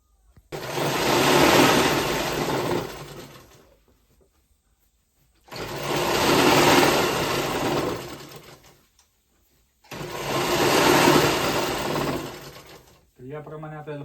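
A sewing machine stitches a godhadi quilt in three long, steady whirring runs, each a few seconds long, close and loud, separated by short silent pauses.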